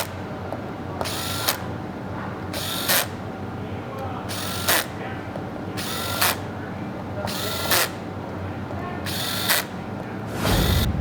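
A power drill with its chuck clutch set to 3 tightens transmission valve body bolts during a Protect 68 valve body kit install, firing about seven short, sharp whirring bursts at regular intervals over a steady low workshop hum.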